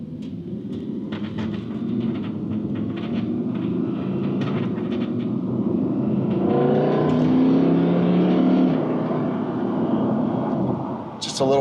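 A 2023 Lime Green Lamborghini Huracan EVO pulls out onto the street, its engine a loud, steady rumble swelling into a rising rev from inside the cabin.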